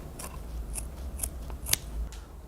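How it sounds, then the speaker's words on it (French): Scissors snip through felt around pool sealing parts, five or six short crisp cuts at an irregular pace, close and clear over a faint low background hum. "on vient découper avec les ciseaux tout autour des pièces à sceller le feutre"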